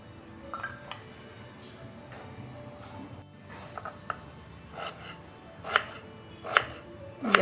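Potatoes are sliced into rounds with a knife for a fasting potato bhaji, producing a series of soft cuts that build to a few sharper, louder chops near the end, close and without speech.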